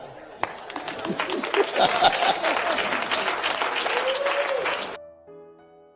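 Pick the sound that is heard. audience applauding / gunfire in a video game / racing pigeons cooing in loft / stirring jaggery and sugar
audience applauding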